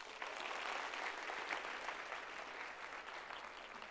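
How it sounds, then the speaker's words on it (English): Sustained applause from an audience, a dense wash of clapping hands at moderate distance, steady throughout with no voices standing out. "Can you give yourselves a round of applause?"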